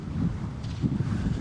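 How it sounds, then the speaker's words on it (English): Strong wind gusts of nearly 50 mph on the Atlantic coast at Ocean City, Maryland, a low steady roar buffeting the microphone with a couple of heavier surges. "we've got nearly 50-mile-an-hour wind gusts here on the Atlantic Ocean"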